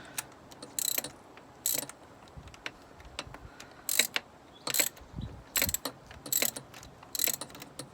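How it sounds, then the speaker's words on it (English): Ratchet wrench loosening an exhaust manifold bolt on a Mini Cooper S R56, heard as a series of short, sharp clicking bursts in irregular clusters, close and fairly quiet, with no talk. "I'm going to try to get it off the rest of the way with the wrench"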